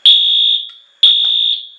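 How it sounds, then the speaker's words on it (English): A fire alarm set off by a pull station blares two loud, shrill electronic tones, each held about half a second before fading, with no talking. "And the alarm goes off."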